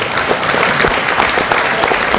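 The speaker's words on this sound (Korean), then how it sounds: "다시 한번 큰 박수 주십시오" Audience applause fills the room at a company's 40th anniversary ceremony, a dense steady clapping that carries on without pause.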